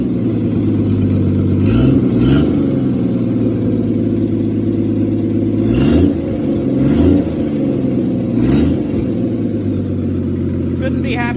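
A Studebaker car engine needing a tune-up idles unevenly up close, with several quick revs rising and falling over the steady loud rumble.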